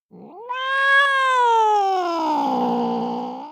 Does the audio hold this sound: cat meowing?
yes